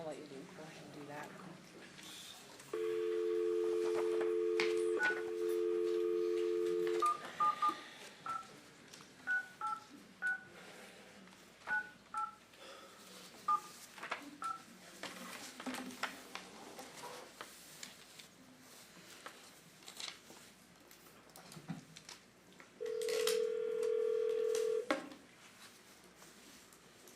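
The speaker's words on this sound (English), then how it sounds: "I'm gonna get Brian on the phone." Telephone keypad dialing tones sound during a county commission meeting as a call is placed: a long steady tone, then a quick run of short button beeps, and another long tone later, with people talking in a room around them.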